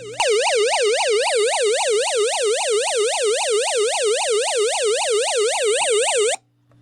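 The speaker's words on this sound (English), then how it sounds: "There's also SOS, which puts out a warbling tone." A hand-crank emergency radio's SOS alarm gives a loud, steady, fast-warbling electronic tone that rises and falls regularly for about six seconds, then cuts off abruptly.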